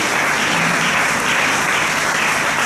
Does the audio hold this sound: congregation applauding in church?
yes